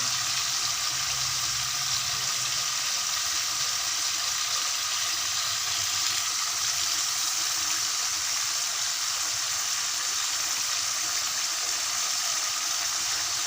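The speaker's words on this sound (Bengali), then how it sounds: "আমার মাছ রান্না প্রায় হয়ে গেছে" Fish frying in a pan, a continuous bright sizzle and hiss with no breaks, close and fairly loud, with no voices.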